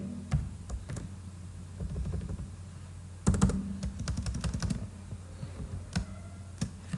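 An HTML paragraph typed on a computer keyboard, with close, uneven clicking keystrokes in short bursts and pauses, a denser flurry in the middle, under a low steady hum.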